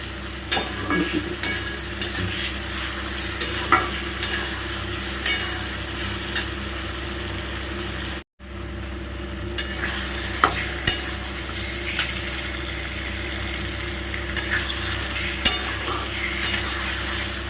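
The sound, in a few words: sautéing diced potatoes in a pan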